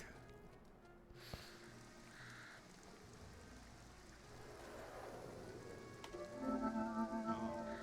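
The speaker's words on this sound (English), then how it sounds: "It's raining." Light rain patters steadily across the surface in the fantasy video game Two Worlds, a soft, faint wash with a few scattered splashes and louder droplets near the end.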